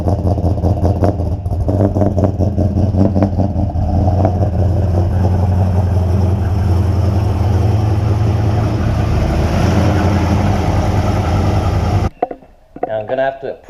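A Holden VN Commodore with an LS1 engine idles and rumbles steadily close by as it is moved, with short revs early on, before the engine noise cuts off abruptly near the end.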